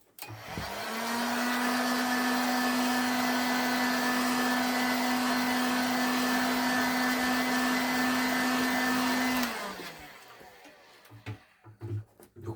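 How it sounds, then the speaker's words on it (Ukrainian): A hair dryer blows steadily with a constant whine for about nine seconds while drying a thin layer of liquid leather paint on a leather repair, then switches off and winds down, leaving quiet room noise. "Робимо тонкий слой і висушуємо його феном."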